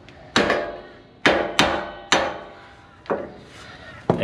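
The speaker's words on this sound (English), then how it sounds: "you can just tap them out, go and get yourself a new wheel stud" A hammer strikes wheel studs to knock them out of a wheel hub, six sharp metallic blows at uneven intervals, close and loud, each ringing briefly before the next.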